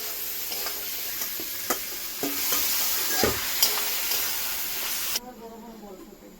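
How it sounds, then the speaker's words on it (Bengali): Bengali spice masala frying and being stirred in a pan until the oil separates: a hissing sizzle broken by scraping stirs, cutting off abruptly near the end. "মশলাটা কষিয়ে নিয়েছি, তেল বেরিয়ে গেছে।"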